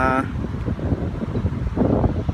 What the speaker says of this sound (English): it's actually really windy out here today